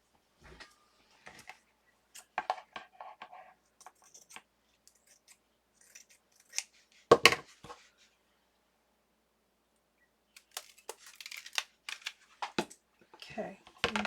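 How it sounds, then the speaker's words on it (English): Scissors cutting paper in short bursts of crisp snipping and rustling, close and fairly quiet, with pauses and a louder cluster of snips near the middle and end. "I need my good scissors"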